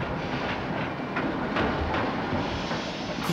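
A train rolls along railway tracks close by, a loud continuous rumble with steady clickety-clack wheel beats and no talk.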